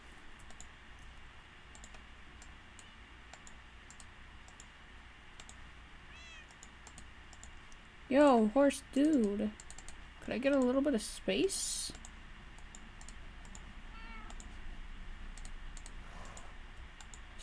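A few high, wavering Minecraft cat meows come in a short cluster midway, over quiet keyboard clicking and someone talking.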